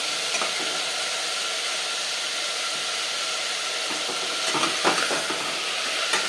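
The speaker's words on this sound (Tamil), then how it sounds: "உப்பு போட்டு இது வதங்க விடுறேன். வதங்கட்டும் பார்க்கலாம்." Onions and tomatoes sautéing in oil with salt for watery sambar give a steady, close sizzling hiss throughout, with a few brief stirring scrapes near the end.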